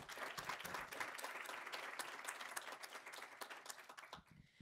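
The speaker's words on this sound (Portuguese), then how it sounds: "Uma salva de palmas para o Christian, por favor." An audience applauds as a guest is called to the stage at a Brazilian nonprofit conference. The clapping is dense and continuous, fairly close and even, and it drops off abruptly near the end.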